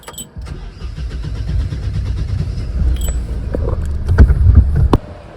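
Car driving along a mountain road near Turtuk and Thang in Ladakh, with steady engine and road rumble close up and brief sharp squeaks from a tire rising above the noise, no talking.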